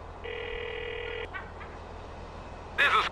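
A phone rings twice in the video game GTA: The Lost and Damned, a steady electronic double trill followed by a short burst of another tone, all over a low constant background hum.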